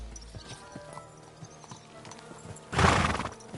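A horse clip-clops along at a steady gait, then lets out a loud, close whinny in the final second.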